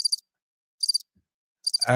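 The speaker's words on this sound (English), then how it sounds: "We'll do the animation with some crickets" A cricket chirping sound effect: three short bursts of high, rapid chirps with silence between them, crisp and close, then another noise cuts in at the end.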